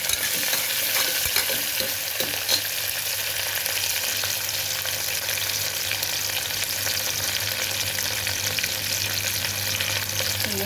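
Beans and ivy gourd frying in a pan for a moong dal khichdi, a steady dense sizzle and crackle held evenly throughout, with no talking.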